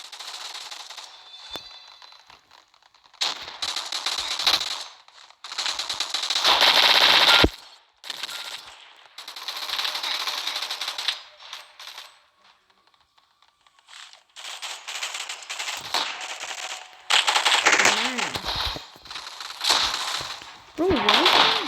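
Rapid bursts of automatic gunfire from a Roblox arena shooting game, loud clusters separated by brief quiet gaps, with sharp repeated shots and some whooshing effects.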